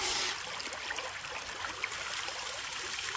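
A creek flows steadily in Uwharrie National Forest beside a gold-prospecting dig, giving a close, continuous hiss and trickle with no voices over it.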